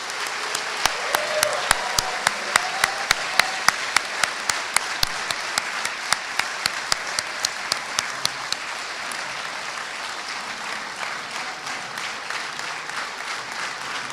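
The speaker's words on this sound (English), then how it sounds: "Please join me in another round of applause for our nation's newest military officers." Audience applause at a Navy ROTC commissioning ceremony for new military officers, a steady crowd of clapping with sharper individual claps standing out early, gradually thinning toward the end.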